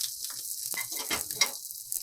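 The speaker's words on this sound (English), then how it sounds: "going to do this cauliflower searing in" A large cauliflower steak sears in a hot pan, one at a time, with a close, steady hissing sizzle and light crackles throughout.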